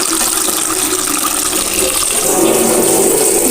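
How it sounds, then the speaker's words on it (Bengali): Items are washed with water in a pot, a loud, continuous rush of running, splashing water throughout. "এখন এগুলোকে ধোবো এই পাত্রটার মধ্যে করে সব ধোবো"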